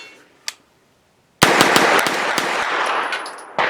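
A Primary Weapons Systems PCC pistol fires a rapid string of loud, sharp gunshots after a lone click and a short silence, close and echoing, with one more shot at the end.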